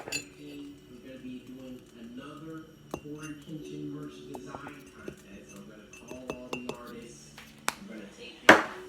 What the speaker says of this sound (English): Now to just mix it up with my spoon